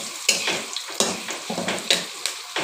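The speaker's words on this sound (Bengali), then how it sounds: "আলুগুলো ভেজে নেব প্রথমে।" Potato pieces seasoned with salt and turmeric frying in a pan, a soft oily sizzle broken by regular scraping stirs of a spatula, roughly every half second.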